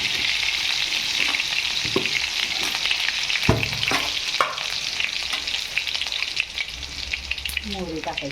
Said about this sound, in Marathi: तेल तापू दे आता.